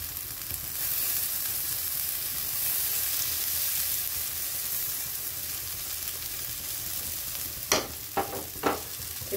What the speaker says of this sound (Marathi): तेल गरम झाल्यावर आपल्याला हे पीठ मिक्स केलेलं टाकायचं